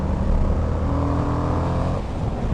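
An Indian FTR 1200 motorcycle accelerates as the throttle opens, its engine giving a loud, steady, full-bodied roar that eases off slightly near the end.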